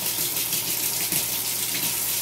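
Warm tap water runs in a steady, soft stream for dissolving winemaking yeast, close by with no talk.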